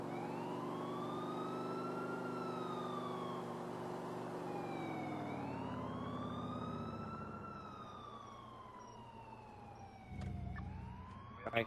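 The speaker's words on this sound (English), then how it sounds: "Once the emergency vehicle's come past, you can then pull out again." An emergency vehicle's siren wails up and down as it passes a car on the road, loud at first and slowly fading, with a brief thump near the end and no speech.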